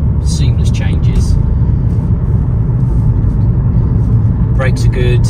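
A 2017 Volvo V90 2.0 D4 diesel with Geartronic automatic gearbox hums and rumbles steadily from inside the cabin while driving smoothly through seamless gear changes, with a few faint chirpy squeaks and brief voices at the edges.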